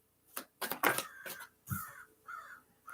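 A crow caws outside in a series of harsh, repeated calls, fairly clear and moderately distant, with no talk over them.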